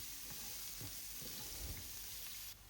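Ginger, shallots and dried red chillies frying with mustard seeds in hot oil for an inchi curry, a steady close sizzle with faint stirring taps throughout.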